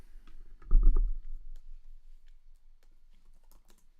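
Computer keyboard typing during a login, with a burst of keystrokes near the start followed by lighter, scattered clicks fading to quiet, close to the microphone.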